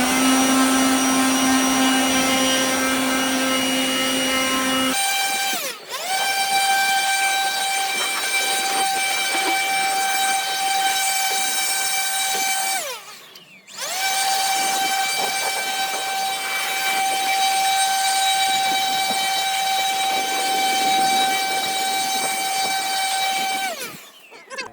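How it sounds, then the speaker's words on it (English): A loud powered blower roars steadily while clearing out the cab of an abandoned 1976 Ford F100 Ranger, holding a strong whining tone that cuts out briefly twice and restarts at a slightly different pitch, without speech. "we went and grabbed the blower. We'll blow this thing off real good."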